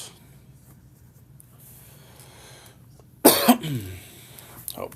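A single sharp cough lands directly on a live microphone during a tech streaming broadcast with a laptop on the presenter's lap, loud and close with a short rumbling tail, after a stretch of quiet room noise.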